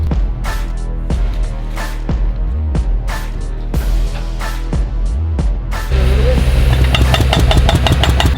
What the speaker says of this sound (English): I guess it's like a horizontal pneumatic drill, which is just basically they laid a pipe behind it